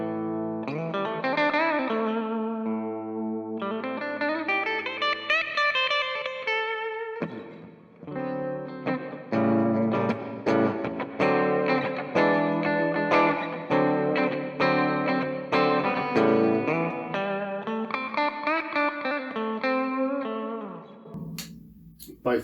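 Harley Benton SC Custom electric guitar played through its bridge pickup at full volume on a clean channel with reverb, ringing chords and melodic single-note lines that sustain and decay, loud and close with a brief pause midway.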